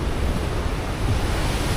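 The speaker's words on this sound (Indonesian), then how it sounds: "suara ombak yang menghantam, ibaratnya ini batu karang ya teman-teman, menghantam karang itu kayak sebuah ledakan gitu guys" Ocean waves crash against rock on Java's south coast, a loud, continuous roar of surf with some wind noise over it.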